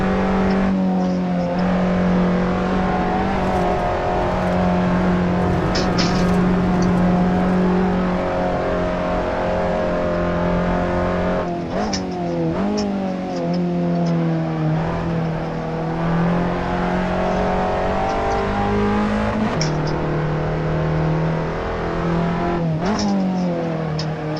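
Race car engine on a hot lap in Assetto Corsa, loud and close throughout, its pitch climbing through each gear then dropping sharply on upshifts and braking, with repeated revving surges over about twenty-four seconds.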